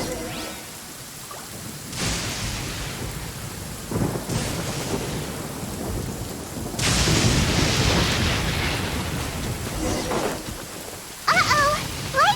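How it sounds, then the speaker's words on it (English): Rain pours steadily with repeated deep rolls of thunder rumbling through a lightning storm in the video game Genshin Impact, loud and close, with a few brief chirpy game sounds near the end. "Lightning storm!"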